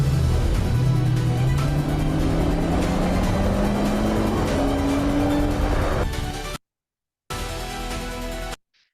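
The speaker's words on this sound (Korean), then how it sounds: "눈길을 달리면서 그 미끄러지는 그런 브레이크 소리라든가 주행 소리" An AI-generated advert for a car driving on snow with skidding brakes, dominated by a loud, continuous engine whose pitch climbs steadily, then cutting off abruptly into brief silence before a short loud burst returns.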